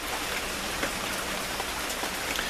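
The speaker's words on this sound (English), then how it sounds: "Right now the rain is falling straight down." Steady rain falls straight down with no wind, a dense, even hiss of drops striking surfaces, loud and continuous throughout.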